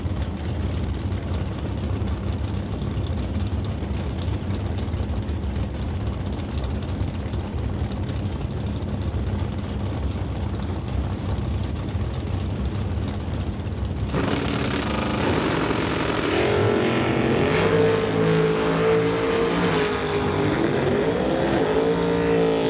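Drag race launch at Mission, BC: a Camaro and a Ford Probe roar steadily down the strip. Loud engine noise builds, then a second car's revving, shifting engine joins with strong rising and falling tones, continuous and fairly close.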